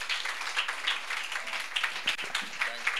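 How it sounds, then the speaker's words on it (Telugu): A church congregation claps together during a service honouring a preacher, a quick, lively patter of many hands in a few uneven bursts, fairly faint and slightly distant. "అందరూ చప్పట్లు కొడుతూ"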